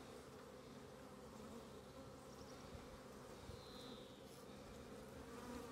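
A honey bee colony hums in a dense, continuous drone during a heavy nectar flow, steady and fairly close with no talking.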